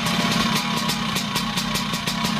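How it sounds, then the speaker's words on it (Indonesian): A Vespa scooter with a bored-out engine and custom racing exhaust runs close by, a loud, crackly, rapid-pulsing engine note holding steady throughout. "knalpotnya suaranya cengeri ini, suaranya kayak tahu digoreng renyah ya"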